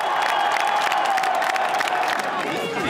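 A dense crowd cheers and shouts around Marine Le Pen during a 2022 French presidential campaign walkabout, a continuous loud roar of voices with whoops and scattered clapping close by.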